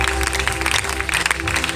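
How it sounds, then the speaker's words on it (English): Church congregation at a Pastor Kalema Deogratius service claps hands in praise, a dense, loud burst of steady applause, with voices mixed in beneath. "Clap your hands and give him praise"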